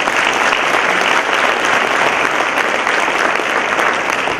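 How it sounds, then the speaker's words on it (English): A convocation audience at a Martin Luther King Jr. event breaks into loud, dense, sustained applause for children, a continuous roar of many hands clapping. "let's give them a round of applause"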